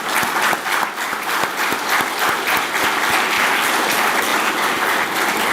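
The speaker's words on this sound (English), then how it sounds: "all of them deserve a big round of applause so that they can also hear it" Sustained audience applause at a keynote address, dense steady clapping from a large crowd filling the room for several seconds without a break.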